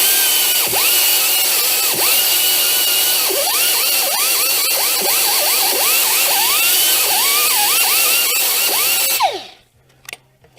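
A drill spins a 3M abrasive pad against a front brake rotor from a 2003 Ford Crown Victoria or Mercury Grand Marquis, a loud, close, whining grind with repeated rising and falling sweeps that runs for about nine seconds, then cuts off.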